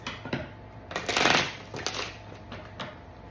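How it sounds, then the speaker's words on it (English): Cards are shuffled in several quick riffling bursts, with one longer, louder riffle in the middle, close up and with no talking. "let's get a good shuffle going"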